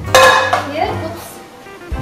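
A dish set on top of a pot and turned over while cooking a stuffed beef potato cake, giving a sharp clatter and metallic clink followed by softer scraping, with a voice speaking over it.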